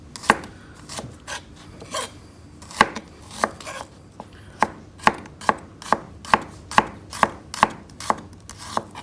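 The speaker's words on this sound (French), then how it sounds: "Bien émincer très très fin" A knife finely slicing onions on a cutting board, a run of crisp, regular taps that start irregular and settle into a quick, steady rhythm, close and fairly loud.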